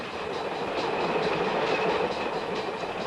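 Freight train running through the Vardar gorge in Yugoslavia in 1976, a steady, dense rolling rumble of wagons with faint rhythmic clatter, continuous and moderately distant, without speech.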